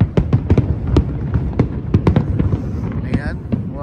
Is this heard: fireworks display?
yes